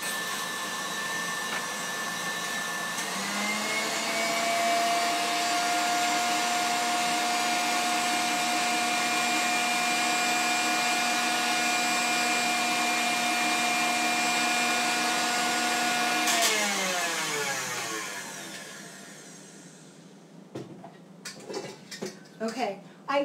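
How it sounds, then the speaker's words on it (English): Dough mixer running at high speed, a loud steady mechanical whine holding pitch for about fifteen seconds, then winding down and stopping, followed by a few faint clinks and knocks. "I don't like running the mixer on camera because it's noisy"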